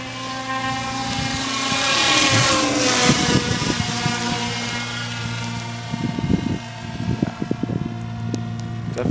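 A homemade 4-inch PVC radio-controlled plane on its maiden flight buzzes steadily overhead, its motor whine rising and falling in pitch as it passes near and away, with light wind noise and some handling bumps close to the microphone.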